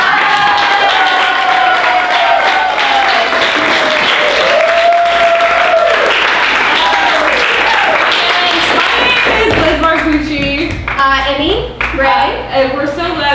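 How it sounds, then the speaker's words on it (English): Audience at an improv festival show in Miami applauds the performers with sustained loud clapping and cheering, voices mixed into the crowd noise throughout. "Would you be willing to settle for clapping for all of these people that just watched us do 45 minutes?"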